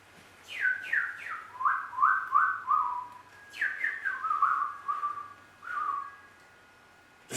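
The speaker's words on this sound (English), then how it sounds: "Listen to the birds." Outdoor birdsong: two clear bursts of bright, descending whistled phrases, each made of several quick repeated notes, separated by a short pause over a quiet background.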